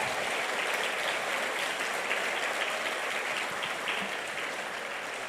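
Sustained applause from a large church congregation filling an indoor space, dense and steady clapping throughout at an even loudness.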